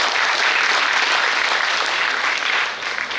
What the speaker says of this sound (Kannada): ನಿಮ್ಮ ಒಂದು ದೊಡ್ಡ ಚಪ್ಪಾಳೆ ಬೇಕಿದ್ದಕ್ಕೆ ಸಂಘ.